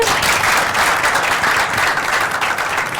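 A ciné-débat audience applauds its guests and themselves, a dense, steady wash of many hands clapping at once, loud and close throughout with no talk over it.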